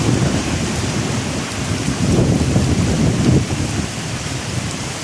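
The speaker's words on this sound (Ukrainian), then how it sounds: "Десь там вдалині видно, що дощ йде добре, тут у селі не дуже." Steady heavy rain pours over a village during a summer storm, with low rumbling thunder rolling underneath throughout and some wind buffeting the microphone; no voices.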